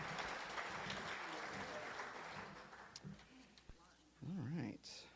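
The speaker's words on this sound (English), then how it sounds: "one more round of applause for all of our finalists in that category" Audience applause for award finalists at an alpaca fleece awards ceremony, a steady crowd of clapping for about four seconds that fades out as a voice begins speaking near the end.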